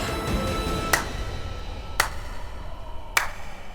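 Three slow, sarcastic hand claps ring out sharply and evenly spaced about a second apart in a quiet indoor room, with no one talking between them.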